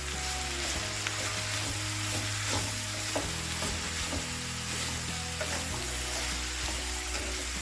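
Salt and turmeric are stirred into bottle gourd in a pan over the stove, with a constant sizzle and irregular scraping strokes, fairly quiet and steady, and nobody speaking.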